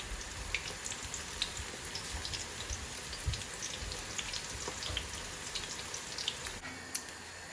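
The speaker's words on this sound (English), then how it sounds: "I'll just take small bits and fry them." Small bits of pakora batter deep fry in hot oil with a constant close crackling sizzle and scattered sharper pops throughout.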